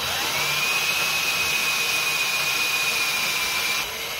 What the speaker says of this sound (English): Carry on drilling straight through.